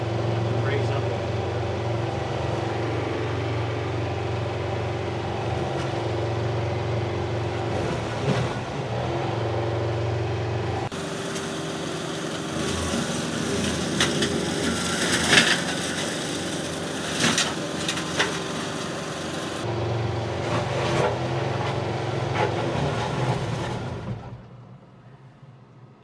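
A John Deere tractor driving a brush mulcher into huge brush piles and trees, a loud steady engine drone with surging, grinding strain in the middle, then it fades out.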